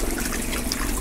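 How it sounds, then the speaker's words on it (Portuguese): Water poured into a fish tank while fingerlings are being released, a steady continuous splashing and trickling, close and fairly loud, with no voices. "Colocar um pouco de água aqui para já dar aquela climatada legal."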